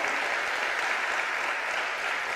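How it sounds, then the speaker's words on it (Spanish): A church congregation applauds during a sermon, a dense, even wash of clapping that holds steady throughout, moderately loud and without pauses. "Vamos a darle un aplauso al Espíritu Santo que imparte esa capacidad."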